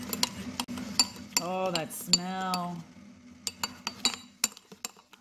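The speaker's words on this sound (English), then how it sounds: "I'm just going to stir for, I think it said about 30 seconds." A spoon clinks and scrapes against a glass while a cappuccino is stirred, producing quick irregular taps and chimes, with a brief spoken word in the middle.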